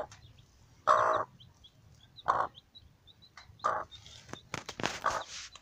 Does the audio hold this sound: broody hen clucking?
yes